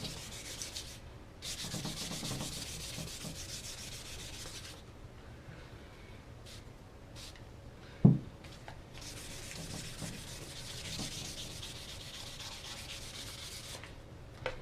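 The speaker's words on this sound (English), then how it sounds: "We're going to take a 400 grit. We're going to sand it down." Sandpaper of 400 grit rubbing over a wooden gun stock under repair, a steady close scratchy rasp in long back-and-forth bursts with short pauses and one sharp knock midway.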